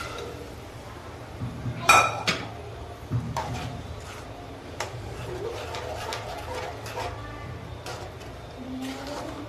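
Cooked chickpeas are tipped into a masala in a pan and stirred, giving a sharp clink of a utensil against metal followed by softer scattered clatter and scraping, fairly quiet.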